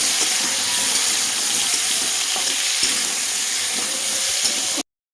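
Vegetables with turmeric and salt fry in a pan with a loud, continuous sizzle, close and steady, with faint stirring scrapes, before cutting off abruptly.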